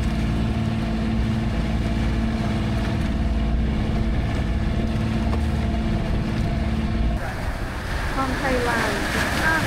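An island-hopping boat heading away from Capones Island, its motor droning steadily under constant wind and wave noise, the texture shifting near the end as the hull cuts through choppier water.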